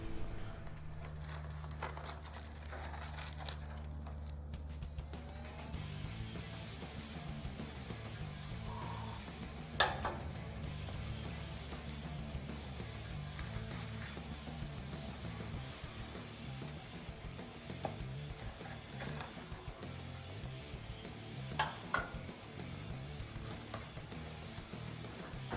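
A chicken quesadilla is cut on a Blackstone griddle, with occasional sharp scraping clicks of the blade against the hot flat-top over a faint, steady sizzle, quiet and close.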